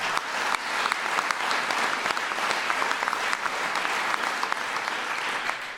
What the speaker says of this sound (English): sure you can clap for that